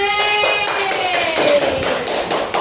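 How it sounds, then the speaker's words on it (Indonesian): Applause in a classroom at a teacher-training lesson, a steady patter of many hands clapping together, fairly close and continuous for a few seconds, with a voice speaking over it. "Tepuk tangan."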